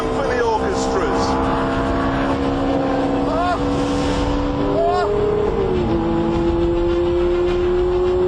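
Ferrari F430 Spider or Lamborghini Gallardo Spyder exhausts roar loudly, with rising and falling engine pitch as the V8 or V10 revs through gear changes, close and continuous throughout.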